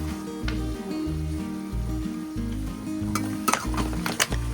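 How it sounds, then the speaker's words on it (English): Ayamase pepper sauce frying in a pan for a Nigerian dish, a steady sizzle under a rhythmic low scraping of stirring, with a few sharp clinks of utensil against pan near the end. "I'm going to be stirring this while frying because I don't want it to be over fried."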